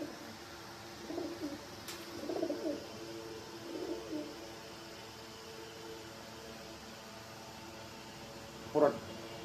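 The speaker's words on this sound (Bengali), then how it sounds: "আমি একটু মাদিরা হাতে নিয়ে একটু ডাক দেখা দিই।" Female pigeon held in the hand gives a few soft, low coos in short separate bursts, with a stronger final call near the end; nearby, quiet room tone fills the gaps.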